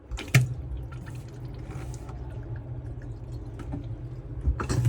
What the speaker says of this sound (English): we'll turn the water pump on. You'll then be able to draw water through the tap.